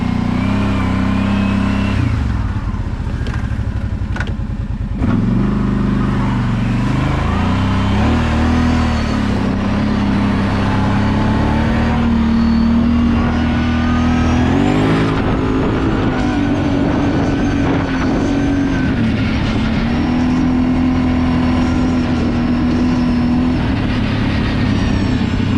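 Loud, continuous engine roar from a four-wheeler ATV on wide BigHorn 3.0 tires and a Toyota 4Runner driving through mud, with steady rumbling and revving surges throughout and no talking.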